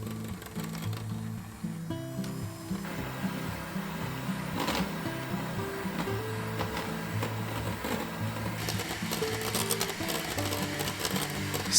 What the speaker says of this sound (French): on monte 250 ml de crème bien froide avec 30 g de sucre